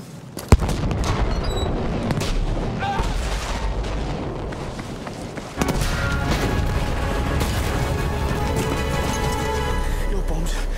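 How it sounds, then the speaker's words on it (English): Bomb blasts in the Battlefield 5 video game: a sharp crack near the start, then dense rumbling explosions and gunfire with a second loud burst midway, sustained and busy throughout, with voices talking over the battle. "Your bombs almost killed me. Yeah, that's because my bombs went off."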